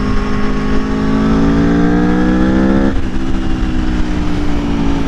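An Aprilia Tuono V4 Factory motorcycle engine revs high and sustained, then drops sharply in pitch as it shifts, running loud and close with no voices, on a mountain road.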